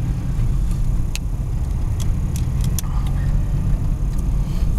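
A fuel-injected 1986 car cruises on a freeway in rush hour traffic near 60 mph, a constant low road and engine rumble with wind noise and a few faint ticks.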